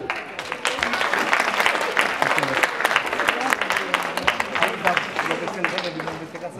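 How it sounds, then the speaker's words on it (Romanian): Audience at a children's music competition debut in Cluj-Napoca breaks into steady, dense applause, many hands clapping loudly and continuously in a hall. "Haideți cu un aplauze, vă rog!"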